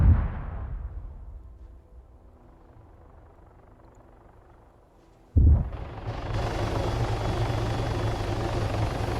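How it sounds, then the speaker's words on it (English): Hostile helicopter landing in a winter tank wargame video game, its rotor drone fading down at first, then cutting back in abruptly as a loud, dense, sustained roar that continues to the end. "You can hear that helicopter land. We got a hostile helicopter coming in."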